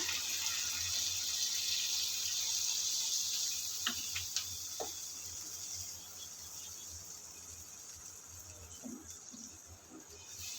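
Broth poured into a pan of braised pangas and tengra fish curry, a steady liquid trickle and splash running for several seconds, with a few faint clicks and ticks near the end.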